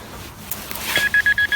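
A metal detector gives a rapid series of about five short, clear electronic beeps at an even rhythm, following a brief crackle, close and fairly loud, in a Ukrainian forest.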